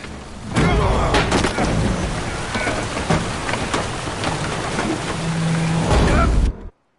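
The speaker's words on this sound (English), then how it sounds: "Didn't bargain for no storm." A thunderstorm at sea in the Witcher 3 video game: dense, loud rain hammering down with low rumbling thunder and creaking surges, steady throughout before cutting off abruptly at the end.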